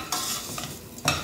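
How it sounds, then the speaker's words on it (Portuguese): Rice sizzles steadily in a hot pan with oil while a utensil stirs it, giving a soft frying hiss broken by a few brief scraping strokes, close and moderately quiet. "E aqui eu vou fritar esse arroz por mais ou menos aí de 2 a 5 minutos."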